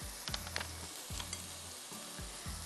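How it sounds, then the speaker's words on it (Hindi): Minced meat with salt and turmeric sizzles in a pan for chicken biryani, a soft, steady frying hiss broken by several scraping stirs in a regular rhythm. "अब इसको हम 10 मिनट भूनते हैं"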